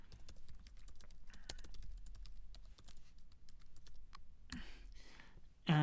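Keys on a computer keyboard clack in a quick, uneven stream of close, light taps, with a brief pause and a louder clunk near the end.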